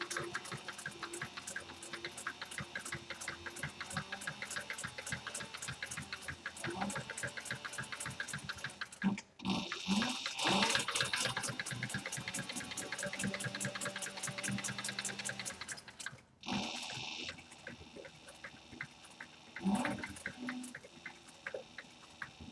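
A sewing machine stitches an overnight bag with a steady, fast mechanical chatter running nearly continuously, broken by two brief pauses before the stitching resumes.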